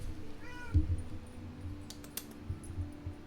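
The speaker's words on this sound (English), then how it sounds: "Do you hear him meowing?" A house cat gives a single clear, close meow that rises then falls, followed by soft rustling and light clicks in a quiet room.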